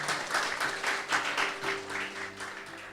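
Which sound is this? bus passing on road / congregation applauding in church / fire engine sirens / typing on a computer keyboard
congregation applauding in church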